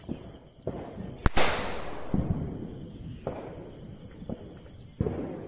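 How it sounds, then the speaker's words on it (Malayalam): Sharp firecracker bangs burst at irregular intervals outdoors during Vishu celebrations, some set off on the road, a couple loud and close, others fainter and distant. "അവരവിടെ റോട്ടിലൊക്കെ പൊട്ടിക്കുന്നുണ്ട് കേട്ടാ"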